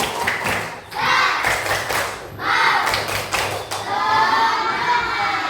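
Schoolchildren in a class doing an enthusiastic rhythmic cheer-clap, loud bursts of synchronized clapping in repeated groups with excited shouting voices mixed in, close and lively.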